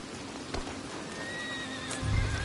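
A horse whinnies in a video game with a thin, wavering high neigh over faint background noise, followed by a few hoof clops near the end.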